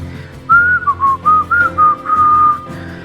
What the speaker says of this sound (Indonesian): Dia memegang les kuda sambil bersiul-siul nyaring